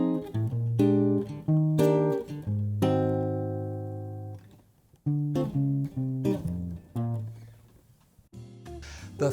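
Jazz chord progression in rhythm changes, with the second half of a chord reharmonized as a flat-7 dominant, played as a sequence of sustained harmonic chords at a steady pace with short gaps between them, alone and without talk.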